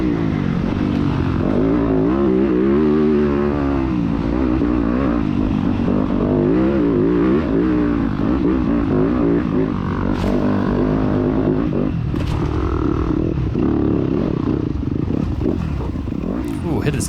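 Several 250F-class four-stroke dirt bikes race in a B-class motocross event, engines droning and revving continuously at close range with rising and falling pitch, occasional clatter over the steady roar.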